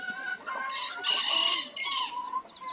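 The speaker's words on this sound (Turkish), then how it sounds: "Başarılı bir tavuk, başarılı civcivler." A wild hen clucks repeatedly with her small chicks hidden in tall grass, the near, clear clucks coming in short bursts alternating with soft peeping.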